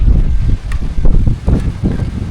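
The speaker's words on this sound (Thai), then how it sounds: "โอ้ลมดีแท้เนาะ" Strong gusting wind buffets an outdoor rural spot in a forest village, blustery rumbles and microphone buffeting rising and falling in uneven surges.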